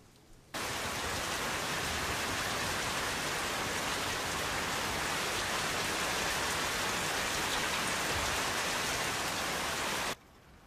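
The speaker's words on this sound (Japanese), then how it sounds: "雨すごいね" Heavy rain pours down steadily as a dense, even roar that stays loud and unbroken for about ten seconds, with no voices over it.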